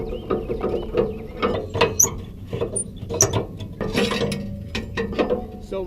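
A metal tow dolly ramp behind an RV is unpinned and dropped down, giving a burst of close, loud clanks, rattles and ratchet-like clicks in quick succession.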